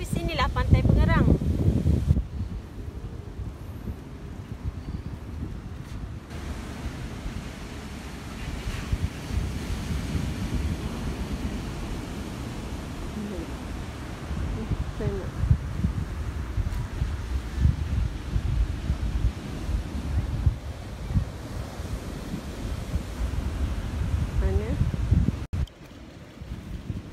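Steady surf and gusting wind at Pengerang beach, a broad continuous roar with wind buffeting the microphone throughout, a louder blast at the start and a brief drop near the end; a voice speaks occasionally over it.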